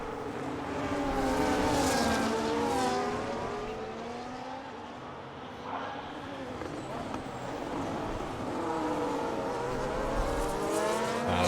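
F1 race cars in the F1 25 video game scream down the main straight at the Circuit of the Americas, engines whining up and shifting as several pass close together, with steady commentary running over the top.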